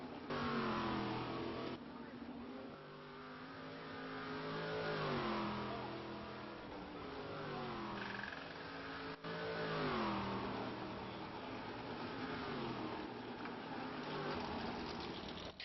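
A race car engine in the GSC2012 sim racing game revs hard in the pit lane, its pitch rising and falling repeatedly in long sustained whines, loud and close, with no talk.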